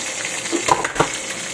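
Onions sizzle in a pan for a mung bean stew, a steady close hiss broken by two quick stirring scrapes.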